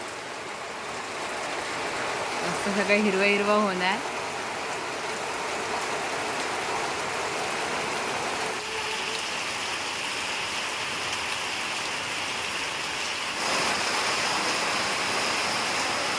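Steady rain falls over a village in a continuous hiss, with a brief burst of music early on and a short spoken line partway through, the downpour carrying on evenly throughout.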